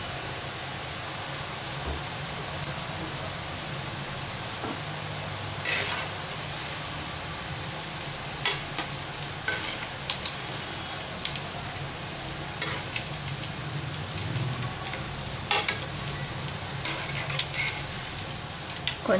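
Boondi fries in hot oil for laddu, a continuous close sizzle with scattered clinks and scrapes of stirring, no talking.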